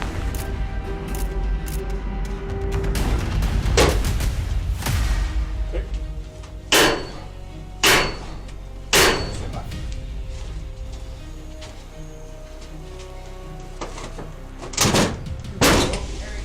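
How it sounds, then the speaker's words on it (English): Police forcing entry into a house door while serving a search warrant: a series of hard, separate thuds and bangs, each one loud and sharp, spaced a second or two apart, with a rumbling background and voices in places. "They broke the door down."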